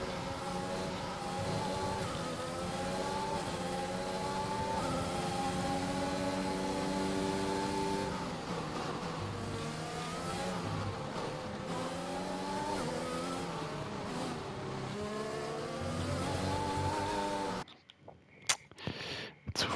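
An F1 race car in the F1 2021 game, on the French Grand Prix, accelerates hard. The engine screams loudly and continuously with rising and falling pitch as it shifts through gears, then cuts out abruptly near the end.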